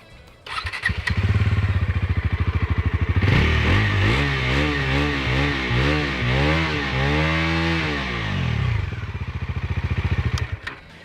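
A Bajaj Pulsar NS400z motorcycle with a 373cc engine starts up and idles, then its exhaust revs up and down in several swelling blips before settling back to a loud idle, close to the bike with no talk.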